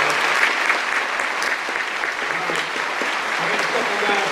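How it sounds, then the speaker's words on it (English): An audience at a school Christmas concert claps steadily, a dense sustained round of applause filling the hall throughout, with some speech heard faintly beneath it. "Let's give them a round of applause."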